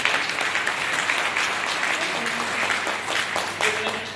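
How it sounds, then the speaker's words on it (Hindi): A hall audience at a wellness MLM seminar breaks into sustained, hearty applause, a dense, even wash of clapping with some faint voices underneath. "मैं चाहूंगा एक बार जोरदार तालियां होनी चाहिए।"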